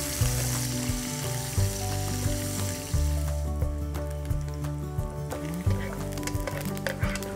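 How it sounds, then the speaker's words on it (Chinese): Red chilli, scallion whites, ginger and garlic fry in a generous amount of hot oil for a Zhaoqing-style crab and chicken pot, a dense continuous sizzle with stirring clicks and scrapes, loud and close, alongside steady tonal background music. "红椒和葱白给它煎一下， 稍微多放一点油，把葱姜蒜给它爆香一下"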